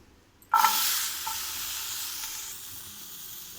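Green chillies and tamarind pieces drop into hot oil with a sudden loud sizzle, then a steady hiss of frying that slowly settles.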